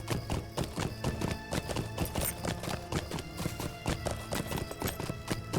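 A horse's hooves clip-clop in a steady, even rhythm in the online game Lord of the Rings Online, loud and close throughout with a faint low background hum.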